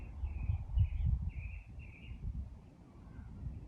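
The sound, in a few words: birds singing outdoors during yoga practice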